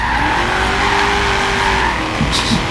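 Racing car in the Forza Horizon 3 video game during a circuit race, its engine droning steadily while tires skid and squeal, ending with brief sharper screeches; loud and continuous, with no talk.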